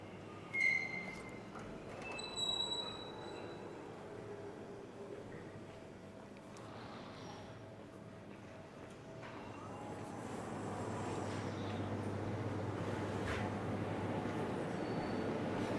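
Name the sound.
train running on rails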